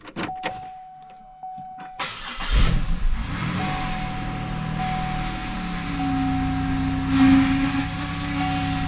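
A 2004-2008 Pontiac Grand Prix engine cranks and catches after a brief whir, then settles into a steady idle with a faint whine running over it.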